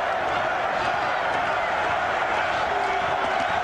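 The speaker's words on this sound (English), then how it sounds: "The crowd chanting in unison," A boxing crowd at a heavyweight title fight between Chris Byrd and David Tua fills the arena with a dense, loud roar of voices chanting together, sustained without a break.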